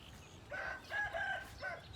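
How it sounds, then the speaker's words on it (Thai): A rooster crows in a few short bursts, faint and somewhat distant over quiet outdoor background. "เสียงไก่เสียงกาได้จ้าพี่น้อง"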